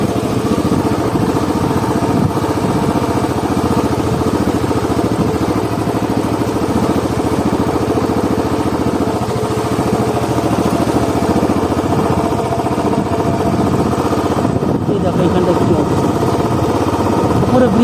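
A motorcycle rides in first gear over a bad, rough road, its mid-pitched engine running steadily with some rattling clatter. Someone talks over it the whole time.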